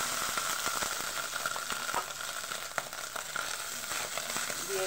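Chicken pieces frying in hot oil in a home kitchen, a steady dense sizzle with fine crackles and pops throughout, no talking.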